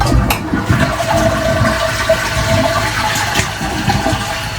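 Toilet flushing with a Korky Strongarm metal lever, a loud, close rush of water swirling and draining continuously, heard alone.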